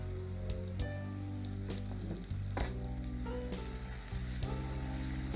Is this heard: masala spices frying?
yes